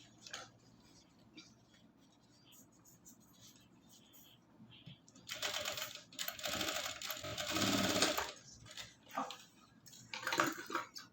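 A sewing machine stitches elastic onto a half belt, its motor whirring in one loud run of about three seconds, then a shorter burst, against a quiet room with a few soft handling noises.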